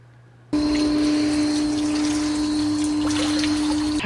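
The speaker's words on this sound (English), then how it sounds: "We have established a hillbilly bathtub out here using an HVAC drain pump." An HVAC drain line pump kicks on suddenly, pumping creek water into a makeshift outdoor shower with a constant whine and a trickling, splashing flow, steady and near, with no talk.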